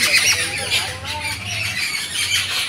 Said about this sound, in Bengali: পাখির কলরব শুনছেন।